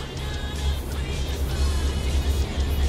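A Peterbilt truck engine in American Truck Simulator drones steadily at low pitch, a loud continuous rumble with faint road noise above it.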